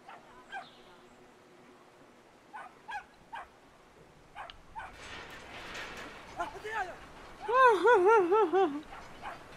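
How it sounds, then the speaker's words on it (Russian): A dog in the video game Brothers: A Tale of Two Sons gives a short burst of several quick barks near the end, following faint scattered game sounds and ambience. "Собаки."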